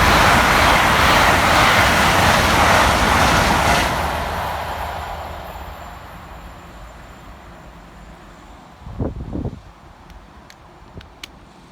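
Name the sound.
Great Western Railway Class 800 train passing fast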